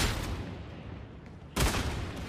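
Gunfire in the video game Warhammer 40,000: Darktide, a dense, steady stretch of loud shooting that jumps to a sharper, louder burst of shots near the end, with no voices.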